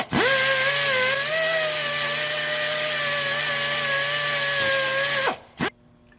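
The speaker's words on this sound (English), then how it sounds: "we're going to get a drill and our drill bit, and we're going to start drilling" A loud air-powered drill, running off an air compressor, whines at a steady pitch for about five seconds while drilling into a crankshaft, then stops abruptly, followed by one short burst of air.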